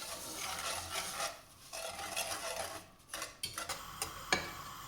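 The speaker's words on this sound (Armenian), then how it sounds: "ավելացնում ենք կարագը, շաքարավազը ու սկսում ենք լավ խառնել" Honey, butter and sugar being stirred in a pot for a medovik honey cake, a continuous scraping, rubbing stir with a few sharper spoon-on-metal knocks toward the end, no talking.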